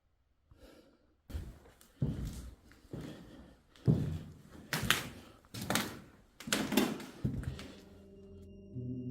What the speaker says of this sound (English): Chris hears knocking sounds very close to the crime scene